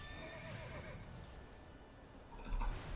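A horse whinnies inside World of Warcraft Legion, its neigh rising and falling near the start over steady game ambience, with a louder burst near the end.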